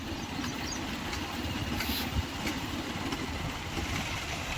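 A motorcycle engine hums steadily while riding, a continuous mid-level drone mixed with wind rush, moderately loud and unbroken, with no talking.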